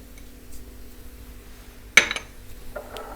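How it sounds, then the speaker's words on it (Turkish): Garlic and salt stirred into yogurt in a bowl for Ali Nazik, giving a single sharp clink of a spoon against the dish partway through, followed by a few fainter scrapes and taps over a quiet background. "İyice karıştırdım."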